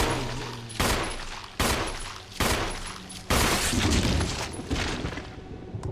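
Gunshots from the Resident Evil video game, four loud separate blasts at roughly one-second intervals, each followed by a short ringing decay, with the last shot trailing into a longer rumble.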